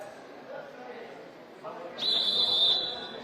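A referee's whistle sounds at a dodgeball match, one shrill, sustained blast of under a second rising out of muffled arena murmur near the end.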